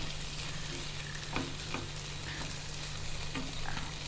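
Okra stir-fry with coconut cooks in a pan with a continuous soft sizzle and frying hiss, broken by occasional scrapes and taps of stirring, with no voices.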